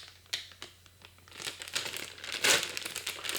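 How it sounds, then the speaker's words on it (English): A Swedish Berries candy bag is torn open by its rip tab, making crisp crinkling and crumpling plastic rustles that build to a loud tearing burst near the end, close up and without talk. "so I'm just going to rip and away I go."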